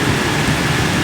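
Heavy rain pours down steadily in a dense, continuous wash of drops, loud and close throughout the short stretch with no voices.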